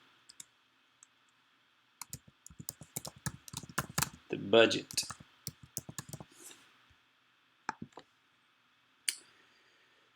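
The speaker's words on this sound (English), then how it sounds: "Typing a little too fast here" Rapid computer keyboard typing in bursts of clicks and key taps, fast and uneven, with a person speaking briefly over it midway before more scattered keystrokes trail off.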